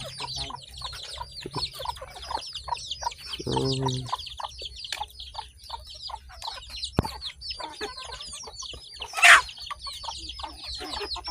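Chickens cluck and chatter close by in irregular bursts, with one sharp loud squawk near the end and a brief murmur from a person.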